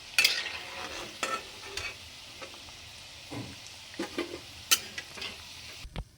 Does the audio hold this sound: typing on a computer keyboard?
no